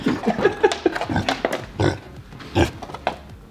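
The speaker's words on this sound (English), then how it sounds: "Little piggy." A pet pig in a shop grunts and oinks in a quick series of short, rough snorts, close by and fairly quiet, with some faint background noise between the calls.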